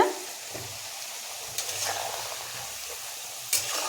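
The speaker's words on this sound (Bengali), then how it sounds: "এই যে আলু ভাজা হয়ে গেছে কিছুটা আর কিছুটা এখানে ভাজা চলছে" Potato pieces fry in oil until crisp, giving a soft, even sizzle close by. A couple of short clatters of stirring or handling break through the hiss, and no one speaks.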